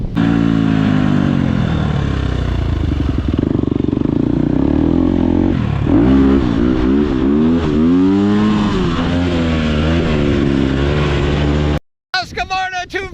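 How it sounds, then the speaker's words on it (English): Husqvarna 250 dirt bike engine on a beach, revving loud and close with repeated rising and falling pitch sweeps and a clattery edge, then briefly cutting out near the end. "Husqvarna 250, it's a lot of fun. It's a hauling butt bike. That thing rips."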